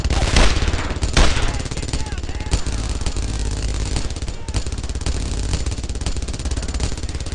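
Rapid gunfire from the World War II shooter Brothers in Arms: Earned in Blood, loud clustered bursts and single shots over a steady battle rumble, with voices calling out over the combat.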